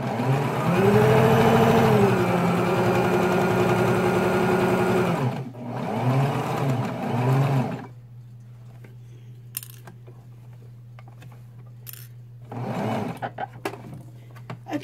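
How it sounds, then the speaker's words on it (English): Sewing machine stitching the seam of a throw pillow in two close bursts, a long run followed by a shorter one. After it stops, a low steady hum continues, broken by small clicks and taps and a brief rustle near the end. "So I'm just going to do that 1 inch of 1/2 inch going in."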